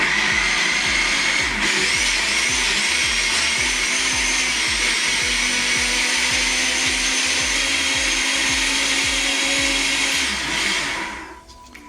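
A countertop blender whizzes a spinach and banana smoothie, a loud steady motor whine with a rapid pulsing chop that runs close and unbroken for about eleven seconds before spinning down at the end, with no talking.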